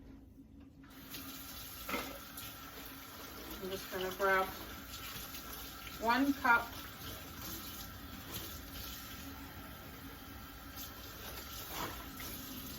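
A kitchen tap runs water into a measuring cup for cake pops, a steady soft stream beneath a person talking, with a few clinks and splashes.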